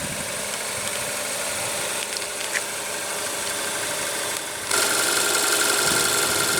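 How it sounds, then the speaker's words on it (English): A 2015 Kia Soul's 2.0-liter 4-cylinder engine idles steadily with a constant low hum and faint rattle, stepping slightly louder near the end as the running continues uninterrupted. "you will find the 2-liter 4-cylinder engine producing 164 horses"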